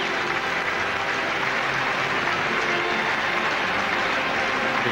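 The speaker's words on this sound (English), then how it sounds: "Kilmarnock fans giving a good send-off. I have to say there weren't too many Celtic fans applauding it." Kilmarnock supporters applauding Ali McCoist's farewell at a Kilmarnock versus Celtic football match, a steady, dense wash of crowd clapping and stadium noise that holds evenly throughout with no pauses.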